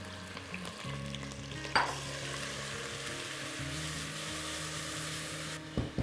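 Onion, garlic, ginger and green chili paste drops into a pan over medium heat with a clatter, then fries in a steady, moderate sizzle for several seconds before cutting off sharply.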